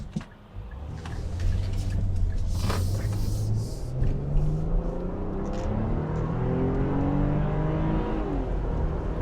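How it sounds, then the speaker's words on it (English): A 2022 Infiniti QX60 with a 9-speed automatic accelerating hard from inside the cabin, a steady engine rumble climbing in pitch and dropping back at each of several upshifts, heard alone without talk. "There's the 9-speed, there's 50 miles per hour, so you get shift points now, which is nice."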